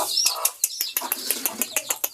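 Rapid high-pitched cheeping from small chicks repeats in quick bursts, fairly close and steady, with faint rustling beneath.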